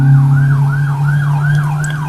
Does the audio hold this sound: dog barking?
no